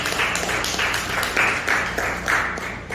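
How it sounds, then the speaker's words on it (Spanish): Applause from a church congregation during a Spanish-language sermon, steady and fairly loud throughout with rhythmic surges of clapping and a murmur of voices beneath. "Dele un aplauso al Señor."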